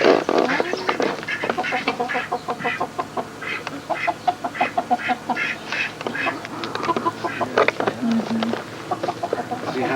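A duck quacks repeatedly in a rhythmic series of loud, nasal calls, with other fowl clucking alongside, close by and continuous.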